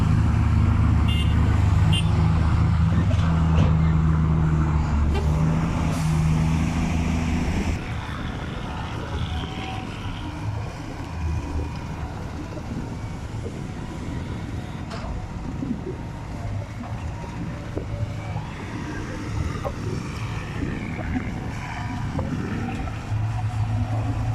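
A CAT 320GC excavator's four-cylinder diesel engine rumbles steadily throughout while loading soil into a dump truck, loud and close, with a deeper revving surge in the first few seconds before settling into a constant drone.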